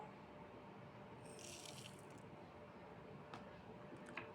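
Water from a jug pours into a cooking pot of shami kabab mix seasoned with salt, fennel and coriander, a steady faint splashing stream heard alone with a few small drips near the end.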